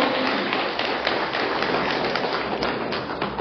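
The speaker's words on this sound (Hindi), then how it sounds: "इनके लिए एक बार जोरदार तालियां चाहूंगा मैं, इतनी जबरदस्त तालियां" A large crowd at a public event in Arunachal Pradesh breaks into dense, sustained applause, loud and close, with rapid overlapping claps throughout.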